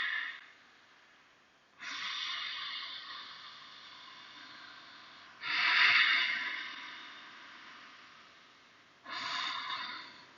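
Slow, deep yoga breaths, close and quiet, with three long airy inhale-exhale swells separated by calmer pauses.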